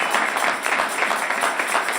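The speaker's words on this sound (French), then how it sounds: "Clap for Jesus." A church congregation claps steadily during a bilingual sermon, a dense, continuous wash of many hands with no break across the whole stretch.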